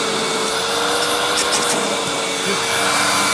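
A Hoover Windtunnel Deluxe U5465-900 upright vacuum runs continuously at full power, a loud steady whine with a strong airy roar close by.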